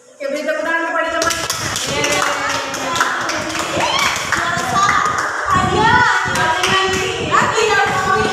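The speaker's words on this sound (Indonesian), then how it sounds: "beri tepuk tangan kepada teman" Young children in a classroom clap for a classmate with a dense, lively burst of handclaps that runs for several seconds, mixed with children's voices and a teacher talking.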